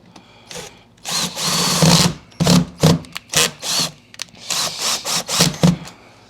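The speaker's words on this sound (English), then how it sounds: "Let's use the power of the drill." A power drill whirs in repeated short bursts while restoring a vintage Kirby vacuum, starting and stopping several times, close and loud.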